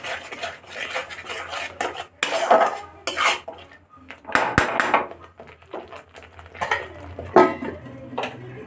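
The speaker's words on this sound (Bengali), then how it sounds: "এবার আমি ভালো করে নাড়বো, নেড়ে চেড়ে এটাকে আমি কষতে দেবো ঢাকা দিয়ে" Potato biryani being stirred in a metal pot, with loud irregular clanks and scrapes of a spoon against the pot coming in bursts, and brief pauses between them.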